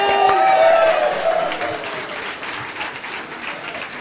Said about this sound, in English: One more round of applause for Michael.